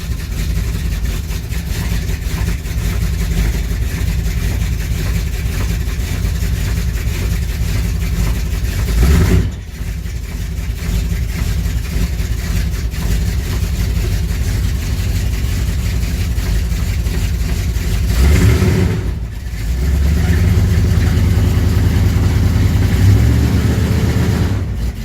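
A 1981 Ram truck engine running after a snowy cold start: loud, steady rough idle, two brief dips where the throttle drops, then a deeper swell as it revs near the end.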